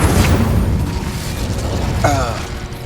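An Incendio fire spell cast in Hogwarts Legacy gives a loud, booming fiery burst over a rumbling game backdrop, with a brief voiced shout partway through.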